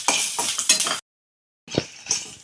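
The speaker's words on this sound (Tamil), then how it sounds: "இப்போ இந்த கருவேப்பிலை கூட இந்த வத்தலை போட்டுருவோம்" Dried red chillies and curry leaves dry-roasting in an empty pan for rasam powder give off crisp, rattling scrapes as they are stirred, in close bursts that break off into brief silence and then resume.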